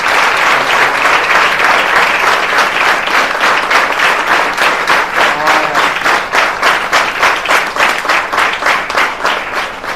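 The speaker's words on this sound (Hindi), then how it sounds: "उसके लिए जोरदार ताली होनी चाहिए।" Loud, sustained applause from an audience cheering a selected student at a motivational study event, dense clapping filling the whole stretch and becoming more rhythmic and unified toward the end.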